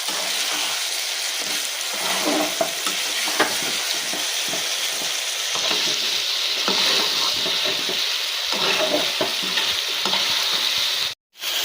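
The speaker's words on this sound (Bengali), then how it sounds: "মশলা দেওয়ার পরে ভালো করে কাছিয়ে দিতে হবে, কিছুদিন কষাতে হবে ভালো করে" Spice paste stirred and fried in a pan for a fish curry, a loud, continuous sizzle with a crackling texture and regular stirring scrapes, close and uninterrupted by talk.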